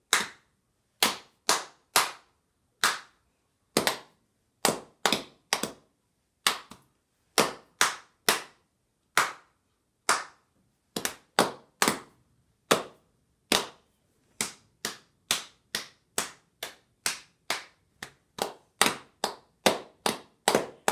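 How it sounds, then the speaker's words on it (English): An adult beginner in a music lesson claps back rhythms: crisp, close hand claps in irregular patterned groups, growing quicker and denser toward the end, with no voices. "Listen carefully as I tap, and I'm going to have you clap back exactly what you hear"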